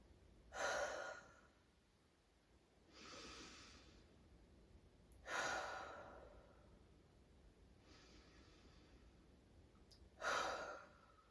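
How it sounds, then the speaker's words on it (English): Slow, deep breaths during a winter solstice yoga flow, four long soft inhales and exhales spaced a few seconds apart, quiet and close, with no talk. "take some deep breaths"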